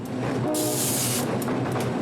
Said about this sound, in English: The tracks in Columbus cross right over State Road 46, which Brown says creates a backup, in part because of this